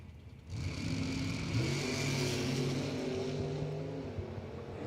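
Brian Soros's T-bucket drag racing car at the Numidia 150 drag event surges from a low idle into a loud, sustained engine roar that holds steady and eases slightly toward the end, heard from some distance.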